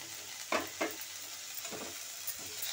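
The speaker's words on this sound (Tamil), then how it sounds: "இந்த அஞ்சு மூலிகையும் நம்ம போட்டு இப்போ வறுக்கிறோங்க" Five medicinal herbs and curry leaves fry in a pan, giving a steady soft sizzle with a few short stirring scrapes, close and alone with no talk.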